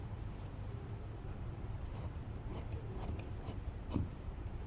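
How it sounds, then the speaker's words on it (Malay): Fabric being cut with scissors for a baju kurung facing, a series of quiet crisp snips spread across the clip over a low background hum. "so sekarang ni kita nak potong Okay, kita potong je ikut tu."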